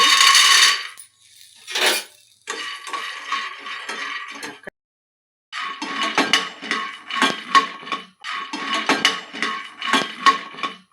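Peanuts dry-roasting in a hot pan on a stove, giving repeated bursts of rattling, clinking nuts against metal, close and fairly loud, broken by a short pause, with no talking.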